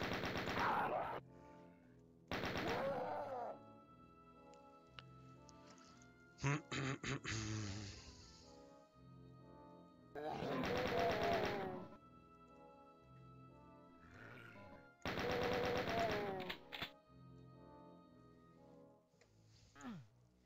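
Video game gunfire on the level To the Rescue (MAP16), heard as loud bursts of rapid automatic shots that repeat through the clip, with growling, roaring noises in the quieter gaps.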